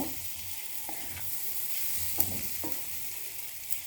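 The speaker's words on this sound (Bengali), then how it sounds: "টমেটোগুলো হালকা ভেজে নেব" Green tomatoes being lightly fried in a pan make a steady, fairly quiet hiss, broken by a few faint spatula taps; no one speaks.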